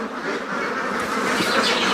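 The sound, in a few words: ducks quacking on a duck farm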